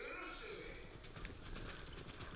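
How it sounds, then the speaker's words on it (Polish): Racehorses breaking from the starting gate on a cold 7°C day, a busy rumble of galloping hooves with scattered clip-clop beats, loud and continuous, with a race commentator talking over it. "mamy już wszystkie konie w maszynie startowej i ruszyły"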